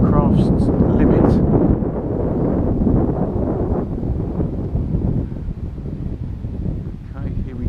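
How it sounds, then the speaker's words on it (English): Strong gusty wind buffets the microphone outdoors while a small XK A160 J3 Cub model plane flies, a loud continuous roar with someone speaking over it. "that wind is now getting up"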